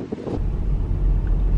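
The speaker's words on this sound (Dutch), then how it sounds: "Waait echt hard." Strong wind buffets the microphone in a constant low roar, with a brief muffled sound near the start.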